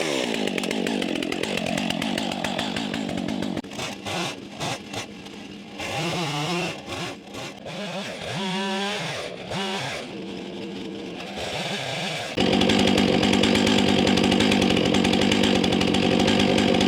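A Stihl 661 chainsaw tears through wood from a junk wood pile, its engine rising and falling as it bogs into cuts and revs free, then roaring at full throttle near the end, loud and close.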